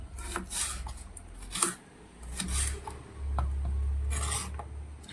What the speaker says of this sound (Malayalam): നമുക്ക് കോവയ്ക്ക ഓരോന്നും ഇങ്ങനെ കട്ട് ചെയ്തെടുക്കാം.